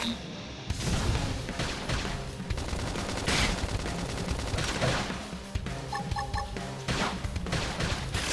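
Gunfire in Xenoblade Chronicles X combat, bursts of rapid shots and impacts over busy battle effects and music, loud and sustained throughout.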